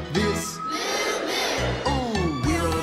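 A large concert crowd voices an imitation of a cow's moo, a loud sustained group call over a farm song, with brief musical phrases returning near the end.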